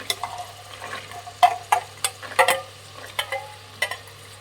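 Fresh green peas dropped into hot oil with fried carrot and vegetables for veg biryani: soft steady sizzle with scattered sharp clicks and taps of peas and spoon, close and fairly quiet.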